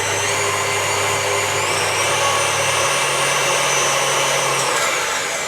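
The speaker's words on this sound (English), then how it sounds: "start turning my mixer on and just start whipping my egg whites gently" An electric mixer whips egg whites for Italian meringue kisses, giving a steady, close motor whir with a constant hum that shifts pitch slightly midway and runs alone throughout.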